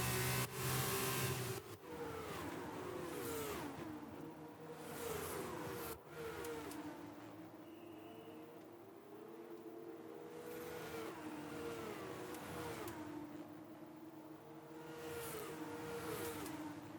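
Formula 1 race car engine in the F1 22 video game during a pit-stop phase, a steady high-pitched whine with repeated rising and falling revs, sustained throughout with no talking.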